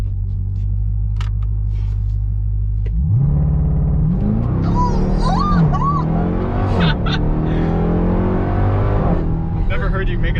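A 2021 Dodge Durango SRT Hellcat accelerates hard from inside the cabin, its engine rising from a low rumble into a loud climbing roar with gear-shift steps, while people talk over it.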